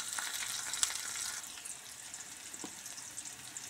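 Ingredients fry gently in a pan, a soft, faint crackling sizzle with a few light stirring taps and clinks, heard close and steady throughout.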